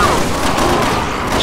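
Gunfire in the Resident Evil 6 video game comes as a dense, loud burst of rapid shots that blend into a continuous roar over the short stretch.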